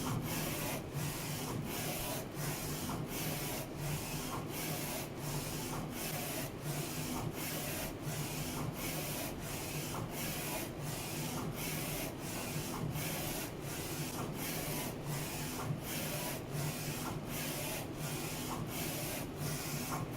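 A Focus Alpha-Jet A2 UV printer lays down white ink and varnish in one pass, with a loud continuous whirring hiss and a regular, evenly spaced swishing beat from the moving print head.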